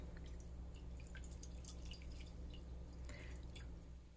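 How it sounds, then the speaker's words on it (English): Water poured into a container of strained tallow, a faint steady trickle with scattered splashy drips, alone and close. "So that was not quite a cup of the strained tallow. I'm going to pour some water in."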